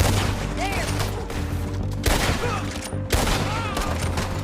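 Dense gunfire from a Red Dead Redemption 2 shootout, a loud, continuous volley of overlapping shots with sharp bursts near the two- and three-second marks, heard over game music and background voices.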